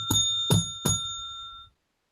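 A bright bell rings three times in quick succession, each ding ringing out and fading, ending in silence, used as a podcast sound effect.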